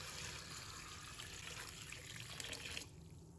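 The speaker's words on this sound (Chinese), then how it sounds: "把它放入盆中，倒入清水没过嫩姜" Clean water pours from a tap into a bowl over young ginger, a steady close splashing rush that cuts off abruptly just before the end.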